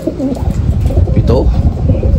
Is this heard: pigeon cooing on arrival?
yes